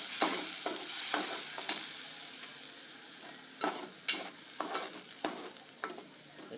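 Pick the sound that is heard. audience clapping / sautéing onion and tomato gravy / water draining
sautéing onion and tomato gravy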